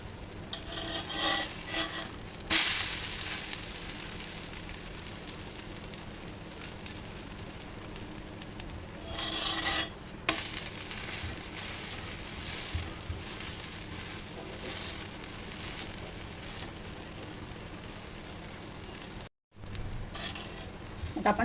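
Wheat flour dhirde frying in a pan over a medium gas flame, a steady close sizzle running throughout with a few brief stirring or utensil scrapes, no talking.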